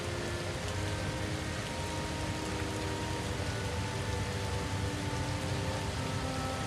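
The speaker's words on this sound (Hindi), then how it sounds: "अरे नंदिनी, आज तो बहुत तेज बारिश हो रही है।" Heavy rain falls steadily and evenly, a dense, continuous wash of drops with no voices heard over it.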